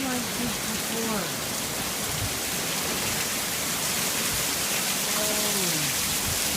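Heavy storm rain pours down in Southern California with wind, a loud steady roar throughout, with voices talking over it near the start and end.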